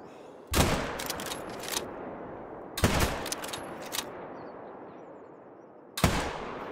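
Gunfire in theHunter: Call of the Wild hunting game: three sharp, loud shot bursts spaced a few seconds apart, each with a short ringing tail over a quiet outdoor background.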